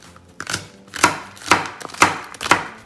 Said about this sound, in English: So we have our green onions. So we're going to go ahead and chop those up.